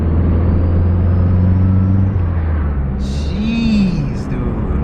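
A car fitted with new bolt-on parts accelerates and runs loud and close, its heavy engine drone rising and rumbling steadily through the whole stretch, with a brief whistle-like tone partway through.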